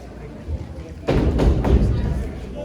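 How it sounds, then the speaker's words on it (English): Heavy footsteps thud on a floor in a Hamlet stage production, a few loud close steps starting partway through with no talk over them. "I hear footsteps."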